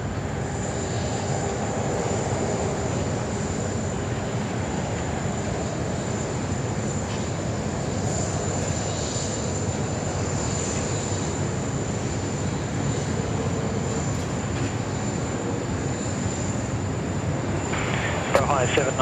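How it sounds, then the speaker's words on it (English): A Qantas Airbus A330 freighter jet at Sydney Airport, a continuous broad engine roar with a steady high whine heard from a distance, holding level throughout while people talk over it. "here we go, the Qantas A330 freighter"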